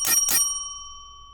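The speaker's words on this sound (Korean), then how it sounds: "5분 30초가 지난 후 종소리 3회" A debate-timer bell at a student debate contest rings two sharp, bright strikes close together, each with a long ringing tone that fades into silence.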